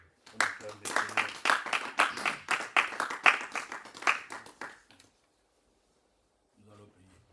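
A church congregation at a teaching service claps in a steady, rhythmic burst for about five seconds, close and lively, then falls quiet before faint sound returns near the end.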